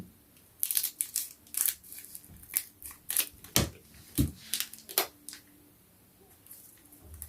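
Scissors snip and rustle at a Charizard Brilliant Stars Pokémon card pack in a string of quick, crisp cuts and crinkles, close and fairly quiet, with no talking.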